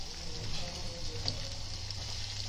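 Sizzling in a pan as turmeric goes into soya chunk and potato sabzi, a steady close frying hiss with a low hum beneath and no voices.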